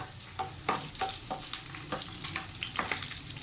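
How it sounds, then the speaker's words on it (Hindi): Garlic sizzles and crackles steadily in oil in a pan with intermittent stirring scrapes, close and continuous, frying as a tempering for black masoor dal. "एंड में हमेशा लहसुन का तड़का ज़रूर लगाते हैं"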